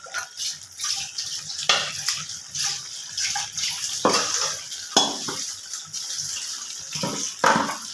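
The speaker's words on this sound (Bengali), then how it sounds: "মশলার বাটিটা ধুয়ে আমি এখন অল্প একটু জল দিচ্ছি" A splash of rinse water goes from a spice bowl into a pan of sizzling cashew spice paste for chicken, followed by wet bubbling and repeated stirring scrapes at close range.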